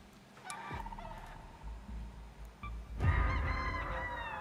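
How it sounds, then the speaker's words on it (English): A chicken in a PC video game clucks once early, then lets out a louder, fuller burst of calls near the end over a low game background. "I hear the chicken too"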